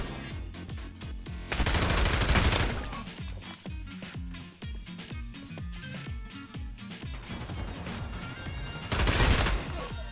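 Pavlov VR video game gunfire: rapid automatic bursts crackle in fast rhythmic runs, with two louder, denser volleys near the start and end, all close and dominant.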